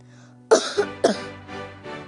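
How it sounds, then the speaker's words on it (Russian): A child gives a quick run of about five dry coughs, close and fairly loud, each one fading slightly after the other. "Ты что кашляешь?"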